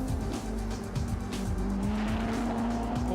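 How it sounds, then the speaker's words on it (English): GT4 race cars such as Porsche Caymans, Audi R8s, Mercedes AMGs and Lotus Emiras run on a new Beijing street circuit at E-Town, with a steady engine drone and one rising pitched note passing through under constant loud noise. "Porsche Caymans, Audi R8s, Mercedes AMGs and Lotus Emiras out on circuit exploring what must be great fun in a GT4 car."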